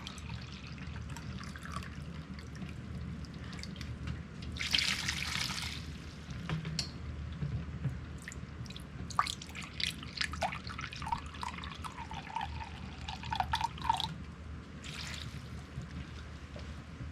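Distilled vinegar pours into a container in a home kitchen, making a steady liquid splash and trickle with brief louder gushes, close and fairly quiet, with no talking.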